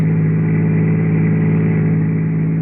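Steady, close car engine hum as a vehicle drives along, a continuous mid-pitched drone used as a radio drama sound effect, with no talk over it.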